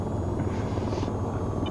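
A helicopter in low flight with a constant loud rotor and engine roar and a steady whining drone, heard from inside the cabin and filling the whole stretch without pause.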